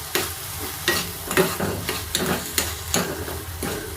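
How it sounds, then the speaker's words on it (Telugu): Tomato chutney being stirred in a pan for a hotel-style village tomato chutney, with repeated spoon scrapes and soft sizzle at a steady, roughly half-second rhythm, close and moderately loud with no talking. "అయితే కలిపిస్తున్నాం"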